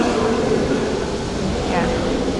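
A Tbilisi Metro subway train running, a continuous low rumble and broad roar from inside the carriage, steady and loud for the whole stretch with no clear voices on top.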